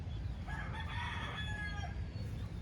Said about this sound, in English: Mr. Rooster's waking us up over there.